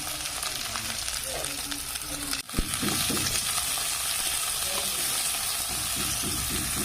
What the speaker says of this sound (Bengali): পেঁয়াজের সাথে একসাথে রসুনগুলোও দিয়ে দেবো, দিয়ে ভেজে নেবো।